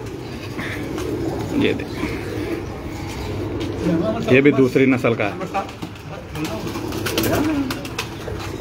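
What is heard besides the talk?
Lal Pari pigeons cooing on a rooftop loft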